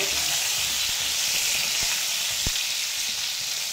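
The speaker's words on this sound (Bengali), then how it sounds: "পটলটাকে আমি একটু নাড়াচাড়া করে দেবো।" Pointed gourd (potol) pieces fry in hot oil with a continuous, even sizzle, broken by a few soft knocks as they are turned over in the pan.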